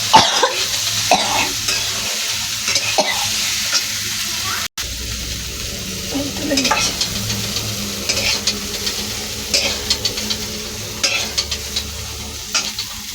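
Cauliflower frying in a pan, a continuous crackling sizzle with intermittent stirring and scraping, close and steady, with a brief cut partway through and a few faint knocks.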